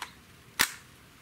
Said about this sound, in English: I'm shooting the same Daisy BBs.